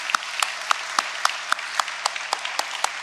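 A church congregation of schoolchildren, staff and parents applauds together at a Sunday worship service, a short burst of rhythmic, fairly even clapping in a hall.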